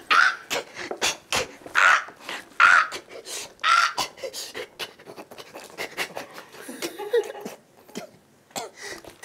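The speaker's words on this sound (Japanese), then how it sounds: "相棒のカラスがいて。" A crow caws several times in the first seconds, loud and close, mixed with scratchy scuffling and clattering sounds, followed by a busier stretch of rustling and knocks without clear calls.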